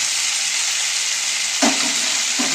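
Ingredients sizzle steadily in hot oil in a pan, a constant loud frying hiss with a couple of brief stirring clatters near the end.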